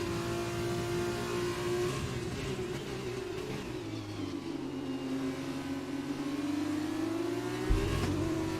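Race car engine in the F1 2020 video game, an F2 car at Austria, droning at high revs with pitch slowly falling and rising, then a sharp shift near the end, steady and with no talk.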